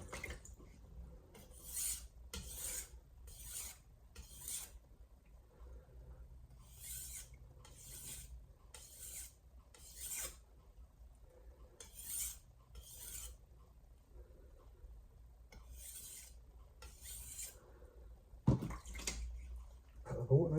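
A santoku chef knife is stroked across a Shapton Glass whetstone in repeated rasping passes, short bursts of grinding separated by brief pauses, close and fairly quiet, with a louder scrape near the end.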